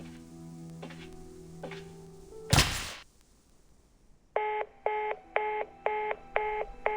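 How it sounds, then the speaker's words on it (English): In a video game, a telephone disconnects with a few tonal beeps and a sharp click, then a series of six evenly spaced, loud, repeating disconnect tones. "Looks like the phone got disconnected."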